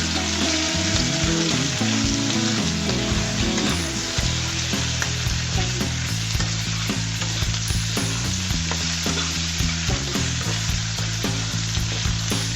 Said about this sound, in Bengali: সুন্দর করে নেড়ে চেড়ে আমি ভেজে নিচ্ছি।